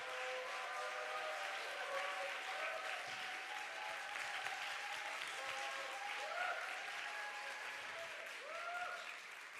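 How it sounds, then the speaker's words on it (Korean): A church congregation at a young adults' Sunday worship service claps steadily and continuously for about ten seconds. The applause is moderately distant and fills the room, with faint tones ringing above it. "우리 하나님께 영광의 박수 올려드리겠습니다"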